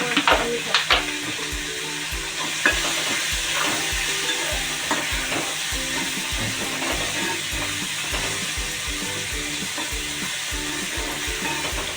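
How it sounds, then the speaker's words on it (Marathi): Green chilies sautéing in oil in a pan for a Marathwada-style chili dish, a steady close sizzle broken by rhythmic spatula stirring and scraping, with a few sharper clatters early on. "जरा पाच मिनटं चांगली अगदी अशी परतून घेऊ शकते"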